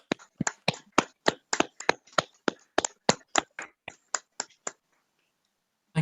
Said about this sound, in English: Can we have a hand of applause before I say anything?